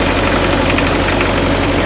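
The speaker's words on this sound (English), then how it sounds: "I'm going to go ahead and start it because it's warm today." The diesel engine of a McCloskey ST80 stacker idles loud and close, a dense, steady rumble with a faint knocking pulse throughout.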